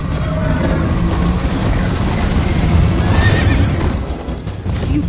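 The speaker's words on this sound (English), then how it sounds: "First time on a horse here." A loud horse whinny in the video game Minecraft: Story Mode rises over a dense rumbling background of hooves and noise, close and prominent.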